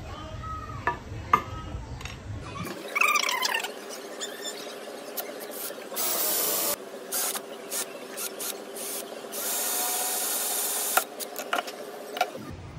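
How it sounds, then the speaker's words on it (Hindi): A drill boring holes through a banjo jhala patti at marked points, heard as a loud, sustained high-pitched whine that starts after a few seconds of quiet and runs in several bursts with brief pauses until the end. "तो अभी हम इसमें ड्रिल करेंगे"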